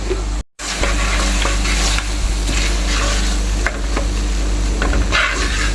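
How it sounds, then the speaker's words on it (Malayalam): Stirring chili powder into a beetroot lemon pickle, a constant close sizzle with scraping and clacking of the spoon against the pan, broken by a brief dropout near the start, no talk. "ഇനി നമുക്ക് ഇതൊന്ന് ഇളക്കി കൊടുക്കാം"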